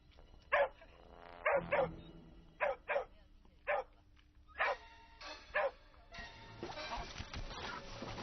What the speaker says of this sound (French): Les chiens aboyaient de leur cabane.